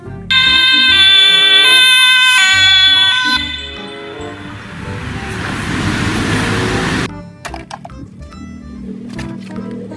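Toy police car gives off a loud electronic siren with bright repeating tones for a few seconds, then a softer noisy whoosh and scattered clicks from handling the plastic toy.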